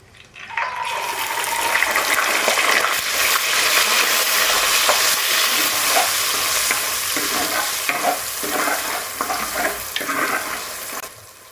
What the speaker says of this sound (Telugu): ఈ ఉల్లిపాయ పేస్ట్ మంచిగా పచ్చి వాసన పోయేటట్టు వేయించుకోవాలి.